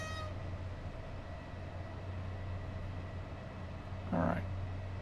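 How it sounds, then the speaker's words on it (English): A train horn sounds briefly near the end of a SimRail train simulator run, one short honk over a steady low rumble of the moving passenger train and engine. "Oh, I need to honk honk."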